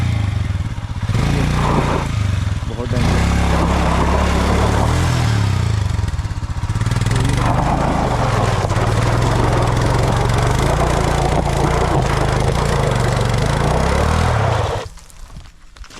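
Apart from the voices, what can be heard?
motorcycle engine climbing a dusty hill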